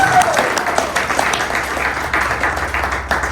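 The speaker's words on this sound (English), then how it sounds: "Let's give Craig a round of applause." Audience applause for Craig at a community meeting, a dense burst of clapping from a room-sized crowd sustained evenly, with some voices mixed in.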